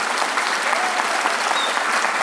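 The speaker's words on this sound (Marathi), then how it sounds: "हात वर करून टाळ्या वाजवा." Dense, steady clapping from an audience with hands raised overhead, a continuous close wash of applause filling the whole short stretch without a break.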